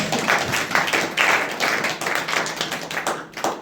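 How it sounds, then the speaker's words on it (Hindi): An audience at a youth meeting claps together in a dense, continuous burst of applause that fades slightly toward the end. "जो पढ़ रहे हैं लोग के लिए अच्छा ताली बजा दीजिए भाई।"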